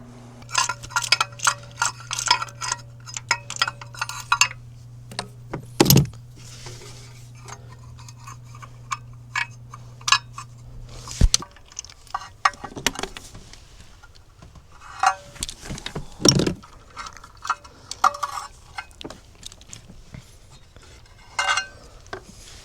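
A 1/2-inch ratchet with a wobble extension and 5/8 spark plug socket works on a 2004 Chevy Impala 3.4/3.8 engine, giving bursts of quick ticking clicks and occasional metallic clunks, close and in short runs, with no talk.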